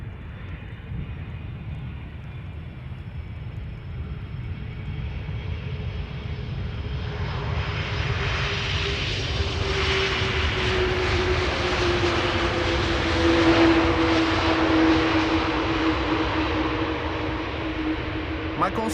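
A 20-year-old Airbus A330 airliner arriving at Amsterdam Schiphol Airport, its engine roar building from a distant hum to a louder, rushing pass with a falling whine, then holding steady near the end.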